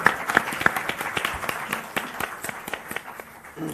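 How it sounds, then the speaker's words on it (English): An audience at an education conference claps in scattered, uneven hand claps, a short round of applause nearby for a panel. "a huge round of applause for our esteemed panel today"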